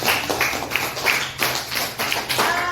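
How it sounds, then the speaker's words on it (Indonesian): A classroom of students applauds for three groups of presenters, a dense run of hand claps with slight swells and dips in intensity across the whole stretch, fairly close and steady. "Tepuk tangan dulu untuk ketiga kelompok."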